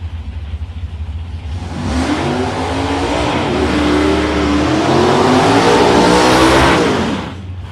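Two drag racers, a black Ford Mustang and a two-door Holden HQ Monaro, rev hard side by side on the line. Loud, rising engine roar climbs and swells over several seconds, then drops away sharply at the end.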